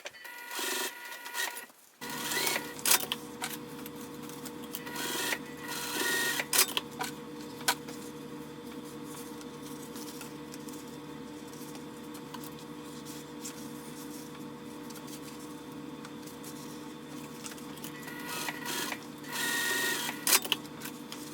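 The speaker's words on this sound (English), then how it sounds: "we're going to sew through all these layers just to secure those pleats" A sewing machine stitches through layers of bag fabric to secure pleats, running in a steady mechanical whir for long stretches at close range, with clicks and handling noises at the start and end and no talking.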